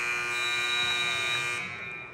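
A buzzer sounds at a girls' high school basketball game: one loud, steady electronic tone holds for about a second and a half, then cuts off, leaving gym noise.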